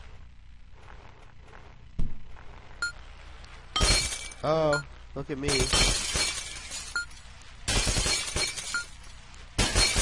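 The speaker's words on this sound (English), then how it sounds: "Intense glass break." Glass shatters in the video game Happy Wheels, several sharp crashes and tinkling bursts over about ten seconds, and a person talks between the breaks.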